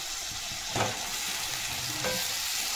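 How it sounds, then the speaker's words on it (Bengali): Spice paste fries in oil in a pan for kata chorchori, a fish-bone curry, with a steady broadband sizzle and a couple of brief stirring scrapes; no talking. "দেখো বন্ধুরা, মশলাটা আমি এভাবে কষে নিয়েছি"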